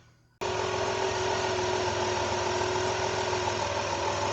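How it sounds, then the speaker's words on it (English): A Dodge Grand Caravan engine starts with a sudden onset and then idles steadily after a water pump replacement, a loud, constant mechanical hum with a fixed tone throughout. "had the engine running for a little bit"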